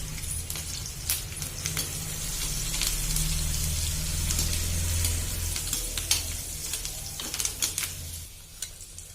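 Asafoetida and curry leaves hit hot oil for a horsegram sabzi tempering, setting off a loud, close sizzle full of sharp spitting crackles that swells midway and then thins into scattered pops.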